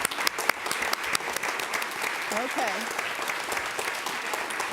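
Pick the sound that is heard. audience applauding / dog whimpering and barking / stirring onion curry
audience applauding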